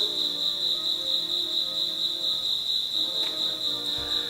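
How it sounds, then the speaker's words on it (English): A single cricket chirps in a steady, shrill, continuous trill, close and clear over a quiet indoor background, with a brief soft knock near the end. "The cricket's really making himself known there."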